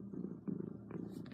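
A cat named Belladonna purrs steadily and close up, a low rumbling purr continuing for over a second.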